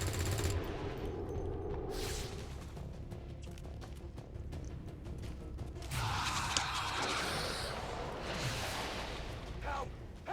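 Overwatch gunshots in XCOM 2: bursts of rattling weapon fire with crashing impacts, interrupted by a quieter stretch, a person talking intermittently underneath.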